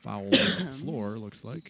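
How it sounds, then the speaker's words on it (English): A sneeze-like cough bursts out once, short and sharp, at a girls' varsity basketball game, cutting across a commentator's ongoing talk. "Kind of like a sneeze cough."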